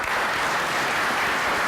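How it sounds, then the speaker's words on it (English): An audience applauds panelists at the end of a question-and-answer session, a dense, steady burst of clapping from a crowd at close range. "Please help me give a round of applause to the panelists."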